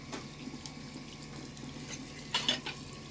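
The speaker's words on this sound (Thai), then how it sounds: "กุ้งเนี่ยมันจะต้องล้างเยอะนะฮะ" Raw shrimp are rinsed under a running kitchen tap: a faint, steady stream of water with a brief louder splash near the end.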